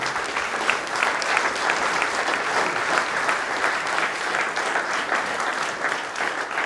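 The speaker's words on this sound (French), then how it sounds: "ces métiers de tradition qui sont l'image de la Charente-Maritime, de la terre et de la mer, ces méritent nos applaudissements et votre participation" A crowd applauds at an oyster shuckers' competition prize ceremony in Charente-Maritime, a loud, even roar of clapping that holds steady throughout with no pauses.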